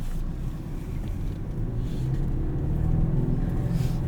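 A 2024 Toyota Tacoma TRD Offroad with a six-speed manual pulls away uphill in second gear on a trail, its engine giving a steady, close, low rumble that builds slightly as it climbs.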